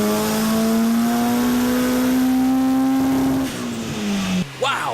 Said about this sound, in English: here we go for our first run on the dyno